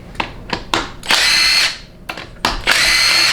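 A power tool rattles bolts out of a 4L60E automatic transmission case during teardown, firing in several short bursts followed by two longer sustained runs, loud and close with no talking.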